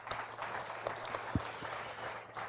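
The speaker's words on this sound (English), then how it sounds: "Give a big round of applause," A scientific development event in Timor-Lestean audience gives a round of applause for a Nobel-winning physicist, with moderate, somewhat distant clapping under a faint room hum.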